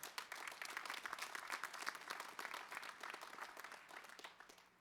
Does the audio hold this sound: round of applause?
yes